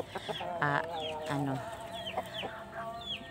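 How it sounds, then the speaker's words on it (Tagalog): Chickens cluck and call close by at a beach, a busy overlapping chorus of short harmonic clucks and squawks from several birds, with no one talking. "Ang mga manok guys, oh."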